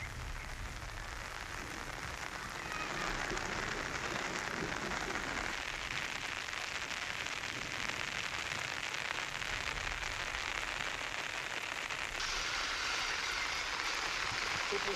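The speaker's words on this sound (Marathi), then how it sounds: "धाराशिवच्या उमरगा तालुक्यात जोरदार पाऊस झालेला आहे" Heavy rain falling steadily in Umarga taluka of Dharashiv, with flooded fields and overflowing streams; a dense, continuous hiss of downpour holds at an even level throughout, without any talk.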